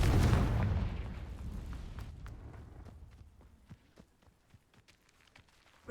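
Confringo blasting spell fired in the Hogwarts Legacy video game: one loud, deep booming explosion at the start that rolls away into a long fading rumble, followed by scattered faint crackles and ticks.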